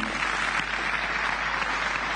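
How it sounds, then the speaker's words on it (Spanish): An audience at an anniversary celebration for an agricultural association in Rosario applauds in a steady, even wash of clapping throughout. "Fuerte el aplauso para el vasco Ricardo Goicochea"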